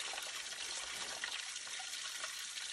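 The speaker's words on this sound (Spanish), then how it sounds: "Es una cascada chica," Small natural waterfall on a forest creek, a faint steady hiss of rushing and splashing water with no break, heard alone from a short distance.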